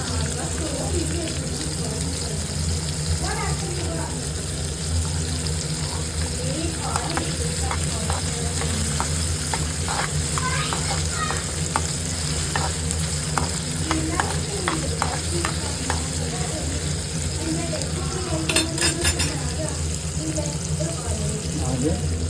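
Coriander seeds frying lightly in a pan for an intestine pepper-fry gravy, with a steady sizzle and the scrape and clatter of repeated stirring, while a voice talks over it.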